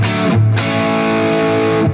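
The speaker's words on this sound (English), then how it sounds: "for sort of more of a rock sound, you're going to want to have that on the humbucker pickup" Electric guitar with a distorted rock tone through the humbucker pickup, a loud sustained chord ringing out with a brief choked gap near the start, alone with no talking.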